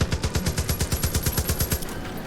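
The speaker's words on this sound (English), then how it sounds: "Where the fuck is that person shooting from?" An enemy shooter in Far Cry 5 fires a rapid, steady stream of gunfire, a close, even burst of shots that runs unbroken for about two seconds.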